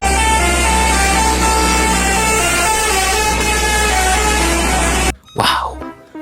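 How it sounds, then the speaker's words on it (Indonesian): A toy school bus sounds its musical telolet horn, a loud, steady electronic melody of sustained tones that cuts off abruptly near the end, followed by a short noisy burst. "Wow, bis telolet."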